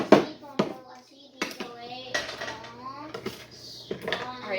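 A frying pan and dishes clatter in a home kitchen, several sharp knocks and scrapes at irregular moments, with a person talking in between.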